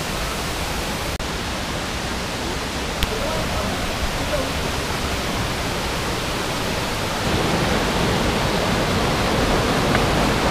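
Tanawan Falls, a waterfall in Dingalan, gives a steady loud broadband rush of falling water that swells slightly near the end, with people talking faintly over it.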